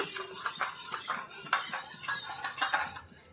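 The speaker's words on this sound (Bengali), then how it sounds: "একটু কর্নফ্লাওয়ার গুলে নিচ্ছি।" A metal spoon stirs cornflour into water in a small vessel, clinking and scraping rapidly and repeatedly, loud and close, before stopping abruptly near the end.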